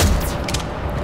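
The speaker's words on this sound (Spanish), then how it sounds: "podemos controlar más lo que son los disparos con la Faraday" Gunfire from the Faraday weapon in a player-versus-player video game match: a loud, dense burst of rapid shots that fills the whole short moment without a break.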